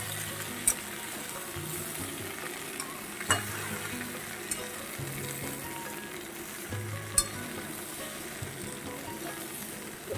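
Washed lentils frying with mixed vegetables in a pan make a continuous close sizzle, punctuated by a few soft knocks of stirring, with no talking.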